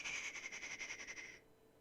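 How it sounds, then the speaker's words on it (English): Cicadas outdoors on a summer day buzz loudly in a steady, high-pitched pulsing drone with rapid rhythmic chirps, holding strong for over a second before cutting off abruptly into quiet background. "the cicadas outside are just chirping like"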